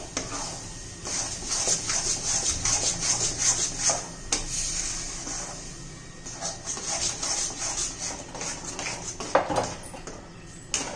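A spoon scrapes and rubs steadily through a mango and coconut barfi mixture in a pan over a low flame, producing close, repeated rasping strokes in an uneven rhythm.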